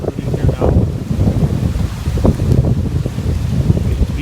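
Wind buffets a microphone outdoors in Minnesota beside a beehive, a loud, continuous rumbling roar that surges and dips without pause.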